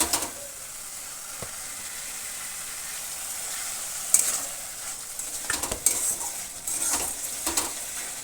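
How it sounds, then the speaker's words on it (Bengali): Spice paste for a fish curry being sautéed in a hot pan, giving a steady sizzle broken by irregular scraping stirs and light utensil knocks that grow busier in the second half; no voices. "মাছের মশলা কষাচ্ছে"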